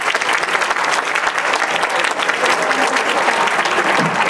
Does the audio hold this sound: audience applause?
yes